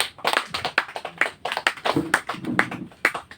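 A small gathering claps in a rhythmic beat during a welcome, with sharp, close hand claps spaced roughly every half second and some fainter clapping between them.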